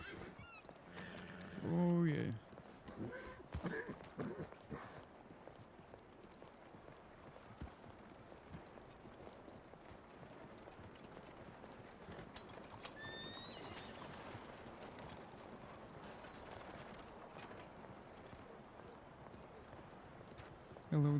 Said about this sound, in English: There's a lot of horses here.